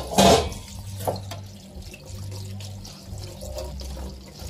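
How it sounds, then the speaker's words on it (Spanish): Cold water poured over drained cooked pasta for a cold soup, a splashy burst at first followed by a steady gurgling trickle of running water. "Le vamos a echar una poca de agua fría para que ya no se siga cociendo."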